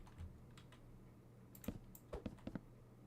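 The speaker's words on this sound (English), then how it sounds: "My keyboard is loud." Loud mechanical computer keyboard typing, close by, in a few short bursts of clicky keystrokes separated by brief pauses.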